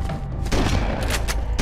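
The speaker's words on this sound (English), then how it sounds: "The shotgun doesn't take this guy down in one shot." Rapid gunfire from a Halo: Combat Evolved shotgun aimed at a Hunter, a dense, loud run of booming shots and impacts with constant game noise and no pause.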